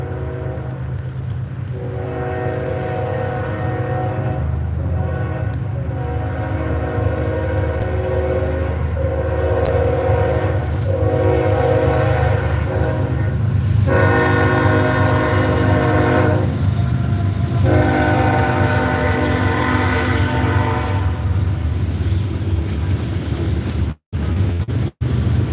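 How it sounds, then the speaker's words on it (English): A loud train passes close by, its horn blaring in long repeated blasts over a heavy continuous rumble that fills the whole stretch. "Here comes the crazy train that's always louder than hell that you got to yell over."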